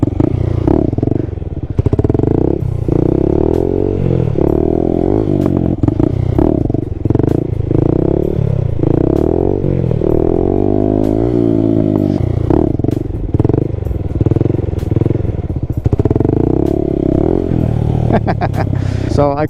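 Honda Grom motorcycle with an exhaust leak revving hard during wheelies in the wet, loud and close, with repeated sharp throttle blips and rising, falling engine pitch, plus clatter and brief thuds.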